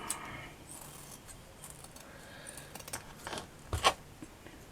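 Scissors snipping pink satin fabric into a cone shape for a flower, faint scattered shearing snips building to a couple of louder crisp cuts near the end, close and quiet, with no talk.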